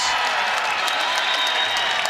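Big home crowd at a women's college volleyball match between UNI and UIC cheering and applauding after a Panthers ace, a steady, dense roar of clapping and voices filling the arena throughout.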